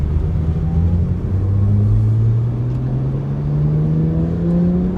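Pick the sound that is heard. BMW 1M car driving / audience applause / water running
BMW 1M car driving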